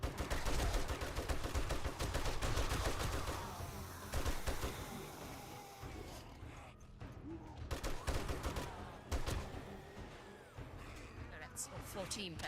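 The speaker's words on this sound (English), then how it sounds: "I want to do things with this gun." Rapid gunfire in the 7 Days to Die video game rattles off in dense bursts with brief pauses between strings of shots, while a player talks over it.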